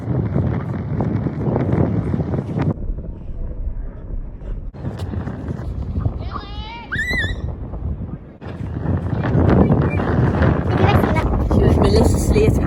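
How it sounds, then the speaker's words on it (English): Strong wind on a beach buffets the microphone with a loud, rough rumble. Voices and a high squeal cut through briefly. "Really windy!"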